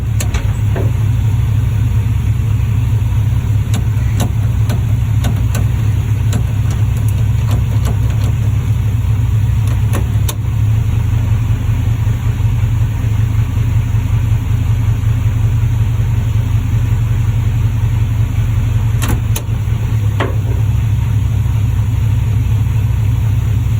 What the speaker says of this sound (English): let's just go ahead and run through these gears real quick, and hopefully we can back this Firebird out